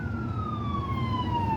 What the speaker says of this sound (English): sorry y'all, it's a siren.